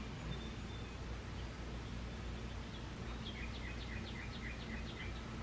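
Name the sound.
birds chirping outside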